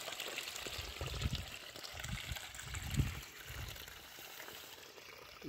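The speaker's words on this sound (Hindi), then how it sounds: "ये देखिए एक ग्राम इंदार की खेत में बोर लगा हुआ है।" Water gushing by itself from a borewell in a farm field, a steady splashing and trickling flow with soft low thuds, fairly close and continuous throughout.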